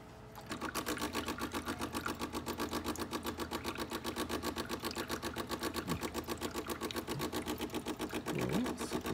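DeLonghi espresso machine pump dispensing hot water: a rapid, steady buzzing pulse from a vibratory pump that starts abruptly and runs evenly, fairly faint and close.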